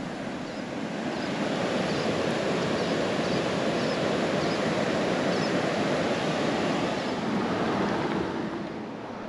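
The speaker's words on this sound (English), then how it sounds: "I spotted, looks like a river, creek or river, run alongside of the road." Ten Sleep Creek in Wyoming rushes along beside a road, a loud, steady broadband roar of fast water that holds constant throughout, alone with no voices.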